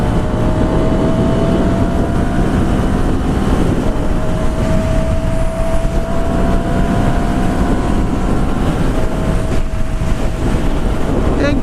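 A 2016 Ducati Scrambler Sixty2 motorcycle accelerates on an interstate, its engine droning steadily under heavy, constant wind rush, loud and continuous throughout.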